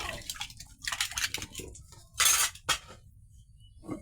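Knives and dishes are washed by hand, with sharp metallic clinks of cutlery, clattering dishes and splashing water in short, close bursts.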